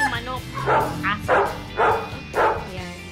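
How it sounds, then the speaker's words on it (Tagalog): A dog barks four times at an even pace, moderately close, with a faint background hum between the barks. "Kung hindi manok, aso."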